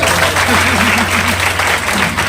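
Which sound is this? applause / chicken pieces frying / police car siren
applause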